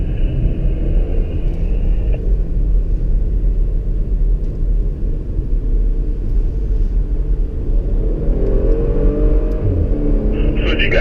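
A Porsche Macan S lapping a race track at a driving event, its engine a steady loud rumble throughout, pitch shifting as it accelerates out of a left-hand corner.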